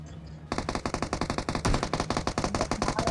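Rapid automatic gunfire in a mobile shooter game played on Android, a loud sustained string of closely spaced shots starting abruptly after a brief quiet moment.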